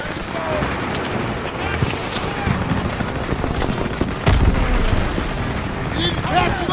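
Heavy suppressive gunfire on a Rhine battlefield in Call of Duty WW2, with dense machine-gun bursts and rifle shots rolling continuously alongside booming blasts, loud and close, while voices shout beneath the din.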